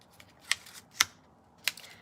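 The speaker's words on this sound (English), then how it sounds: "And then our little label, you're gonna need your scissors." Scissors snipping a small paper label for a handmade card: three crisp, separate cuts, quiet and close, with no voices.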